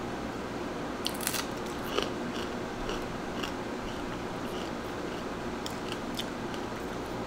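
An armor tail scorpion eaten whole gives crisp, irregular crunching bites close to the mouth over a steady background hiss, with no talk.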